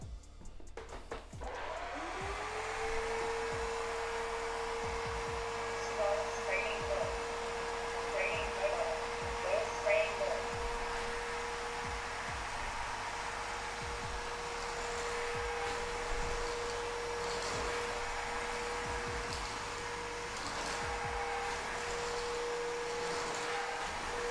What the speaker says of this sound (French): J'allume l'aspirateur.